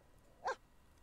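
One short, distant-sounding dog bark from The Sims 4, slightly electronic in tone, pops out of a quiet background.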